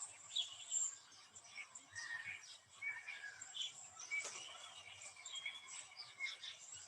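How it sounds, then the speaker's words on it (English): Several birds sing and chirp in a churchyard meadow, a steady mesh of bright overlapping calls and tweets near and far, with no voices over them. "Hear the bird song."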